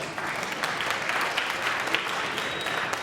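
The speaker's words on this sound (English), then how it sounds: "You can clap." Applause from a synagogue congregation during a sermon, a steady wash of many hands clapping fairly close for the whole stretch, with no speech over it.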